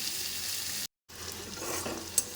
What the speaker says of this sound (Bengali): আমি ভেজে নিই তারপরে দেখাচ্ছি